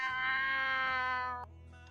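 A person imitates a cat during a tabletop Dungeons & Dragons game session, a single drawn-out meow voiced close to the microphone and fading into quiet at the end.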